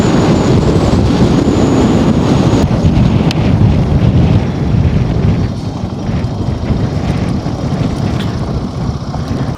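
Strong wind buffets a microphone in an open Himalayan valley on a mountain road, a loud, continuous, roaring rumble that eases slightly toward the end, with no speech.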